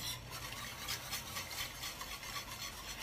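A wire whisk stirring a still-liquid ube halaya mixture in a pan, with soft, continuous rhythmic swishing and scraping strokes, close and moderately quiet, and no talking.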